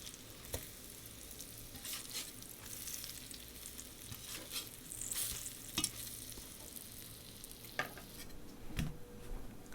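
Mock sausage patties made from a 1943 recipe fry in a pan, giving a steady close sizzle with occasional sharper pops and scraping clicks as they are flipped.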